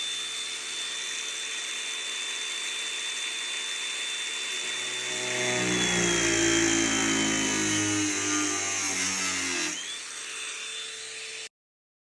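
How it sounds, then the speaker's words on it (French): Angle grinder cutting through the hood of an Audi RS3 8V sedan, a steady high whine that grows louder and rougher in the middle as the disc bites, then eases off before stopping abruptly. "Premier coup de meule, il était trop tard."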